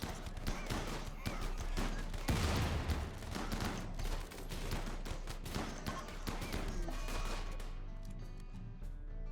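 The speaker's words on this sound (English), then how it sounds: "Who's throwing grenades? Kill the guy throwing grenades" Grenade explosions and rapid gunfire in the colony game RimWorld: a sustained volley of sharp, overlapping shots and bursts, loud and dense for most of the stretch, thinning toward the end.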